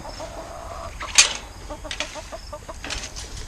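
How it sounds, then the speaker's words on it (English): Backyard hens make soft, scattered clucks and short calls as they are let out of their coop, with one sharp, loud high note, plus some faint wing flapping. "So let's let the chickens out."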